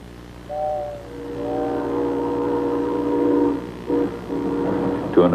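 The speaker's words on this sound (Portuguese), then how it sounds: "Para um observador numa plataforma, este trem está passando a grande velocidade." A train passes, sounding sustained tonal horn-like blasts over a rumbling, rolling roar that swells and shifts in pitch, loud and close.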